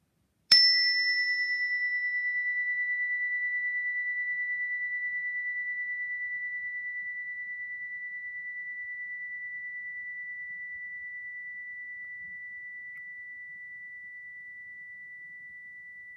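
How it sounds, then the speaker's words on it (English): A chime is struck once during a calm relaxation exercise, giving a sharp bright strike that rings out as a single clear sustained tone, slowly fading over about fifteen seconds in otherwise quiet surroundings. "I'm going to hit the chime once more."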